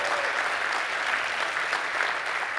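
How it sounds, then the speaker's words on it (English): A large audience applauds at a motivational talk in Chicago, a dense steady wash of many hands clapping that holds evenly throughout with no voices rising above it. "Can we give Chicago a hand clap, please?"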